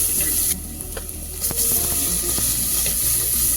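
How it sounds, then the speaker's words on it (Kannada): Chopped onions fry in a pan on a home stove for a balekayi (raw banana) gravy, giving a steady close sizzle with a few clicks and scrapes from stirring. No one speaks. "ಈರುಳ್ಳಿ ಬ್ರೌನ್ ಆಗೋವರೆಗೂ ಫ್ರೈ ಮಾಡ್ಕೊಬಾರ್ದು."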